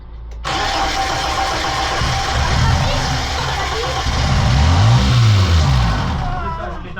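A BMW E30 engine fires up after being brought back to life, starting abruptly and settling into a steady, loud, close idle with a brief rise in revs near the end.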